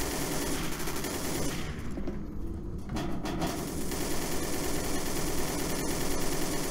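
Continuous loud automatic gunfire while shooting zombies in the Codename CURE co-op game, a dense rattling stream of shots that thins briefly midway and then keeps pounding steadily.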